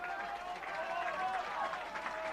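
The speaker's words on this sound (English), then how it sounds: "listen to the applause for the Oldham team as they come off" Rugby league crowd at an Oldham home match applauds the Oldham team leaving the field after a heavy defeat, a steady distant wash of clapping and crowd noise throughout.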